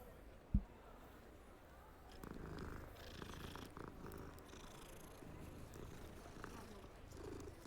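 A cat in the video game Hogwarts Legacy purring in a soft, continuous rumbling loop, faint and low, preceded by a single short click.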